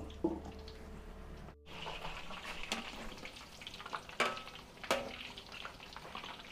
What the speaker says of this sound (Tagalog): Tapos prito naman po tayo ng saging.